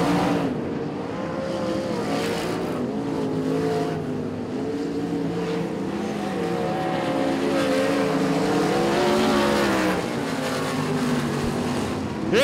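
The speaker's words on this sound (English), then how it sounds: "The Limited Sprint Cars turning on the action in and out of Ellenbrook." Limited sprint cars racing at Ellenbrook Speedway, a dirt oval, with loud engines roaring and rising and falling in pitch as the pack passes, steady and continuous throughout.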